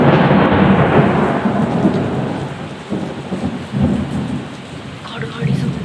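Heavy monsoon rain pours down steadily while thunder rumbles and rolls in several swelling surges, loud and close, with no speech over the storm.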